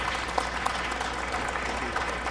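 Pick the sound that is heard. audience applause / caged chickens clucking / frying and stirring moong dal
audience applause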